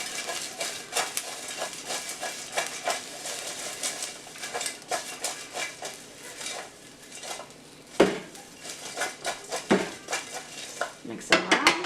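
French fries being tossed and stirred inside a Ninja Foodi Grill by hands in silicone gloves: steady clattering of fries against the metal pot, with sharper clinks and knocks near the end, close and fairly loud, with no talk.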